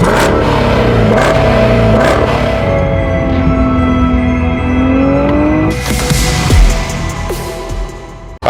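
Race car engines on a drag strip, including a 1400 hp Nissan GT-R and a 900 hp Hellcat, roar and rev loudly with rising and falling pitch, one long sweeping rev building before a sharp change to a rougher, broader roar.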